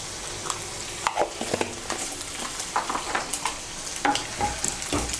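A dried red chilli and half a teaspoon of nigella seeds hit hot oil as a tempering for a Bengali bottle-gourd posto. The oil sizzles steadily, with scattered crackles and pops and a few utensil taps, and no one speaks.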